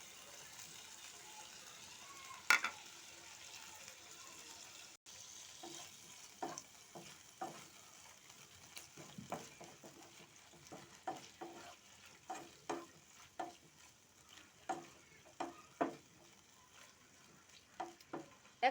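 Chicken pieces frying with salt in a pan for chicken chowmein, a soft continuous sizzle under repeated scraping stirs that grow more frequent and louder toward the end, heard fairly close and faint overall.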